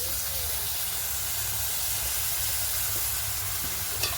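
A little water poured over coriander powder and spices frying in a pan sets off a loud, continuous steamy hiss and sizzle close up, holding steady throughout, with a brief clink near the end.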